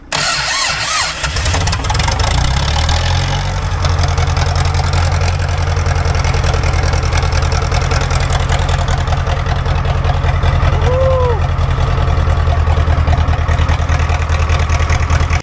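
A UMZ engine fires up for the first time after an overhaul. The cranking catches within a second and settles into a loud, steady, close idle with a rough rumble.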